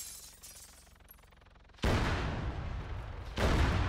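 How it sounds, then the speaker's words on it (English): A rocket strike slams into a warehouse in Arma 3: after quiet ambient hum, a sudden loud explosive crack with rumbling tail, followed by a second heavy impact near the end, no talk. "Viper 1, prioritize warehouse rocket strike."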